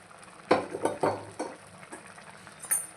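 Jaggery syrup is stirred into sugarcane juice for temple-style sweet pongal: a spoon clacks and scrapes against a pot in several uneven strokes, close and fairly loud, over a faint bubbling sizzle with no talking.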